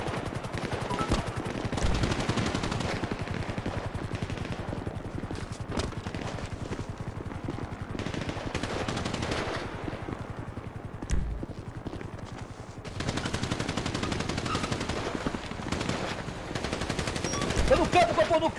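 Sustained bursts of AK rifle fire during a violent confrontation between police and armed men, rapid and loud, cracking continuously through the whole stretch with brief dips.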